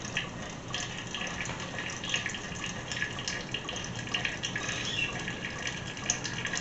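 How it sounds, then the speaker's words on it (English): Motor oil drains steadily from a Victory V92SC motorcycle fork tube during a fork seal replacement, making a continuous close-up gushing, trickling pour that holds at an even level, with no talking. "Now once all the oil drains out"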